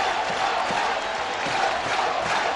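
Large baseball stadium crowd of tens of thousands at a New York Mets home game against the Washington Nationals, a steady loud roar of cheering and noise filling the whole clip without pause.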